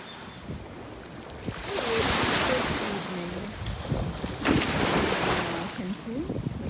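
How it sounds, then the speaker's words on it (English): Surf rolls onto the sand at Coral Beach in Cancun, Mexico, a steady wash of waves with wind buffeting the microphone, while a person talks over it throughout. "this is the Coral Beach, and I'm staying in the Fiesta Americana, and this is the beach"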